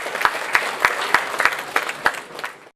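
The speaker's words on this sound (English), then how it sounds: "Please put your hands together and give him a round of applause." Audience applause at a literary awards ceremony, a steady wash of clapping with a regular series of louder strikes roughly every third of a second, fading toward the end.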